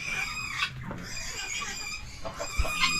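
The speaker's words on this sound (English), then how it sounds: "These are all reproduced guineas here." Guinea fowl raised on a homestead call out at close range in a burst of harsh, rhythmic, repeated cries, with farmyard bird noise behind them and no talking.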